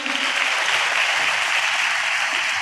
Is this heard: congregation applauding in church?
yes